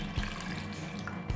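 Cold water poured into fresh apple juice flavoured with rock salt, plain salt and vanilla, a short soft splashing pour with light liquid trickling, quiet and close.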